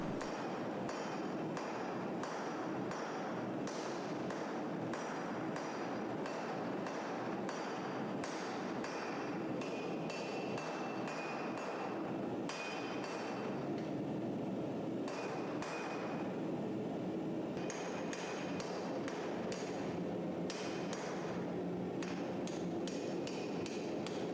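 Steel blade of a Winter War style puukko knife being hammer-forged on an anvil, a loud close run of rapid ringing blows in bursts with brief pauses between.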